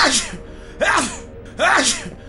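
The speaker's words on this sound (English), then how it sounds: "my cold struck again, and I had a sneezing fit" Three sneezes in a row, evenly spaced, each a sharp burst with a breathy intake, fairly close and loud.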